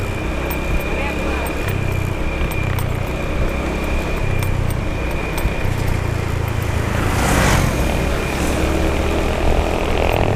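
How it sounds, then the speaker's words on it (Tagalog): Road traffic passes outdoors in the Philippines as a dense, continuous engine rumble and road roar, with a rising whoosh of a passing vehicle near the middle. "Palagpas na sa traffic."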